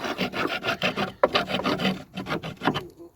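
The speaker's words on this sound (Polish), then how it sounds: "Tutaj czeka mnie jeszcze skrobanko" Rust is scraped off the body of a Mitsubishi Pajero in a series of close, rhythmic rasping strokes, about a dozen quick back-and-forth scrapes with brief gaps and one sharper knock, no talking.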